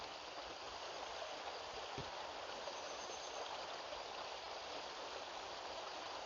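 A creek flows steadily below a collapsed bridge at dusk, a continuous broadband rush of water heard from a distance, even and unbroken with no voices.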